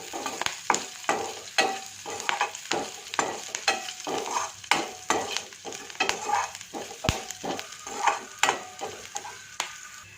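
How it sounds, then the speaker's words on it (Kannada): Onions, curry leaves and cumin fry in oil in a pan, an ongoing sizzle broken by frequent rhythmic spatula scrapes and taps, close and fairly busy, with no talking. "ಇದನ್ನೆಲ್ಲ ಸ್ವಲ್ಪ ಎಣ್ಣೆ ಚೆನ್ನಾಗಿ ಫ್ರೈ ಮಾಡ್ಕೋಬೇಕು ಅಂದರೆ ಈರುಳ್ಳಿ ಸ್ವಲ್ಪ ಚೆನ್ನಾಗಿ ಫ್ರೈ ಆಗಿಬಿಡಬೇಕು"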